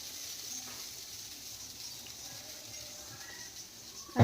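Sweet chila batter frying in a pan, a soft steady sizzle close by with faint crackles, ending in a brief louder clatter.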